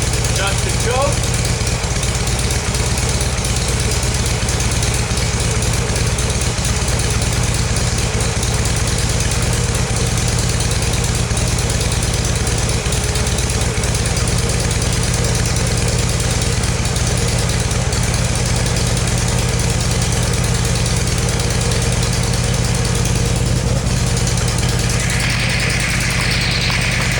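A 1981 Harley-Davidson Lowrider motorcycle engine idles loudly and steadily up close, a continuous deep rumble with little change throughout.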